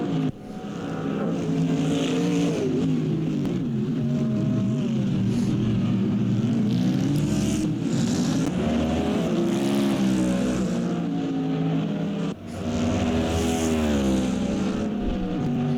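Lexus and Mustang race cars running close together at Bahrain in a racing video game, their engines a loud, continuous roar that rises and falls in pitch as they shift, with no talk over it.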